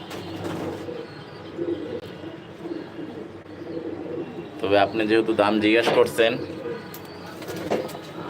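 Pigeons coo steadily in a racing pigeon loft, a low, continuous murmur of many birds close by, running under someone talking throughout, with a louder burst of calls midway.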